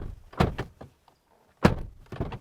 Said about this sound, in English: Door slam.